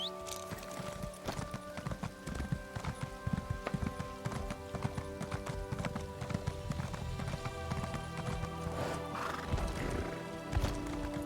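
A horse in the Elder Scrolls Online game neighs while its hooves clip-clop steadily over several seconds, with occasional louder thuds among the hoofbeats.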